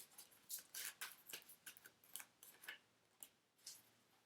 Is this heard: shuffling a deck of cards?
yes